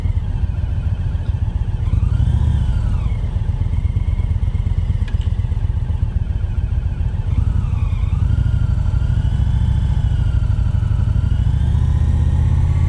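A motorcycle rolling at slow speed during an advanced slow-speed riding practice session in Pennsylvania, engine droning loud and close with a couple of small rev swells and a steady low rumble as it brakes.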